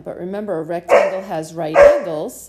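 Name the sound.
dog barking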